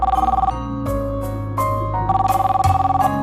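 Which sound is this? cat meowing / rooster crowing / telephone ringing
telephone ringing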